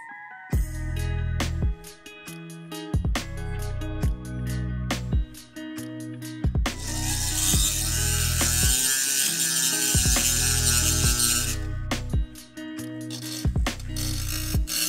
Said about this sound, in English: you need to drill 3 holes, and for that purpose I'm using Dremel